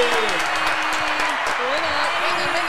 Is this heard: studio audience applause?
yes